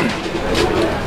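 Pigeons cooing close by, a soft low rolling coo lasting about a second over faint background noise.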